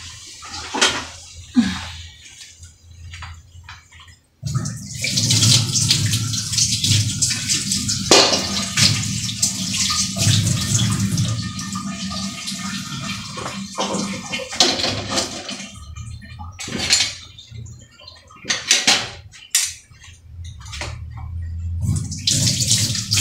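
Water pours and splashes while leafy greens (saag) are washed to rinse out sand, a loud continuous gush broken by sloshing handling sounds, with quieter dripping and clatter before and after.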